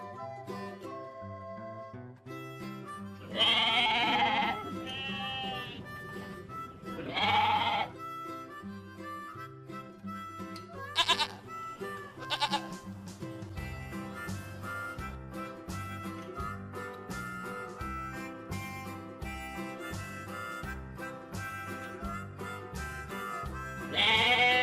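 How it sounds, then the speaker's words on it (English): Goat bleats ring out in short, loud bursts, a couple of separate calls rising above a continuous musical backing. "Goat."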